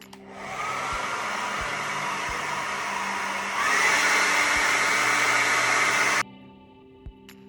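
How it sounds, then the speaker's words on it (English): A hair dryer blows with a steady rushing roar, stepping up to a louder, higher setting partway through, then switching off abruptly. "I'm going to put it on high. My hairdryer also has a couple of different attachments"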